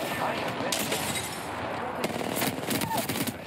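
Rapid automatic gunfire in the battle-royale game Apex Legends, dense bursts of shots and impacts sounding close and loud, with a player's voice talking over parts of the fighting.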